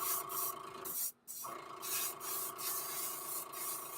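An airbrush sprays yellow paint onto an ultralight fishing bait in short hissing bursts, with one clear pause in the middle, close and fairly quiet, with no talking.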